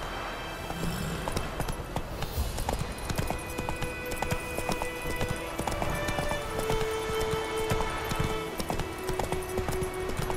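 Hooves of the horse Roach clip-clop at a steady galloping rhythm in The Witcher 3, continuous and fairly close, with game music tones and ambience layered underneath.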